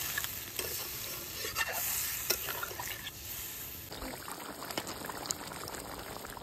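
Chicken kosha curry cooking in a pan with water just added, a steady sizzle and bubbling under repeated scraping strokes of a spoon stirring close by.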